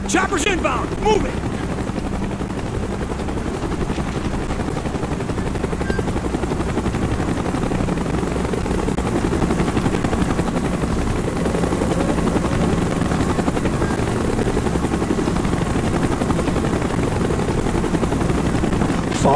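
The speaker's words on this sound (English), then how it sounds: "We got a chopper coming. Get your head down." A helicopter thunders close and continuous in Call of Duty: Black Ops, its rotor roar filling the whole stretch with bursts of gunfire and shouted voices mixed in beneath.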